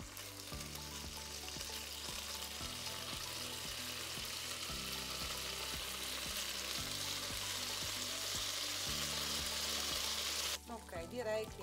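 Food sizzles and fries steadily in a hot pan while a keto breakfast is cooked, a continuous crackling hiss with some stirring, then a brief clatter at the end.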